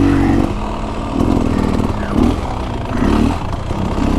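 A 2024 Beta Xtrainer enduro motorcycle engine while riding through deep sand, a close, steady buzzing drone that rises and falls in short revving swells with some rattle.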